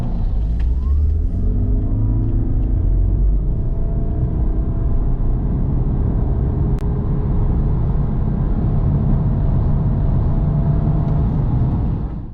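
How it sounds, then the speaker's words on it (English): A Toyota Prius hybrid engine revs and accelerates hard from 0 to 100 km/h, its rising drone sweeping upward in pitch steadily for several seconds with no talking. "this is what it looks like when a Prius goes from 0 to 100 kilometers an hour"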